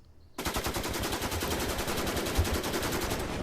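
Rapid automatic gunfire from the World War II wargame Panzer Campaigns Kiev '43 starts suddenly and carries on as a steady, dense stream of fast shots, loud and continuous, with no talking.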